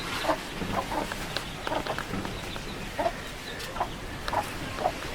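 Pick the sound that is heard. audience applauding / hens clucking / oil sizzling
hens clucking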